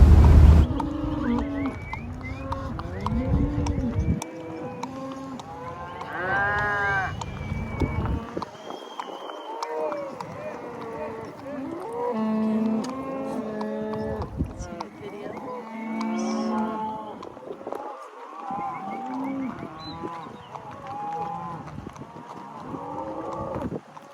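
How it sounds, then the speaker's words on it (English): Cattle in a holding pen after being herded back low and moo repeatedly, with many overlapping calls from several animals through the whole stretch amid faint background noise. "We finally got the cows back down to the holding pen and got them hooked up with the others."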